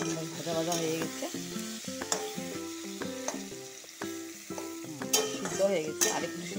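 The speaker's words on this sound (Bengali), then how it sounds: "স্কোয়াশের সাথে আলুটা ভালো করে ভাজা ভাজা হয়ে গেছে" Squash and potatoes fry in a pan for a vegetarian curry, giving a soft, continuous sizzle under steady melodic background music, with no talking.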